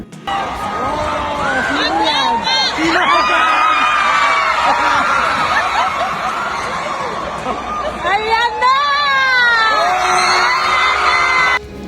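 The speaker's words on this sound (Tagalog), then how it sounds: "Sigawan ng mga tao na dumalo sa naturang okasyon nang tinawag ni Lucy Torres ang asawa na para pumagitna para umpisahan na ang kanilang sayaw" A large crowd at LGU Night 2024 in Ormoc shouts, whoops and cheers loudly and continuously as Richard Gomez and Lucy Torres take the floor to dance, with high excited screams rising in bursts above the steady roar.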